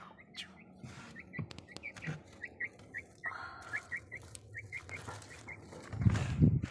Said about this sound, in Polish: Kwoka z kurczakiem na polu.